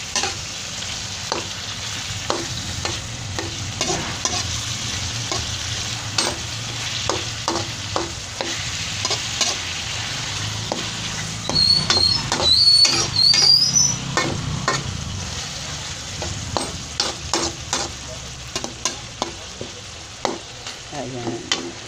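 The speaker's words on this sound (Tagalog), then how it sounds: "Kaya, palalambutin natin ang ginisang upo." Bottle gourd (upo) sautéing in a pan with garlic, onion and tomato: a steady sizzle runs throughout, broken by repeated clattering stirs of a utensil against the pan, without talk.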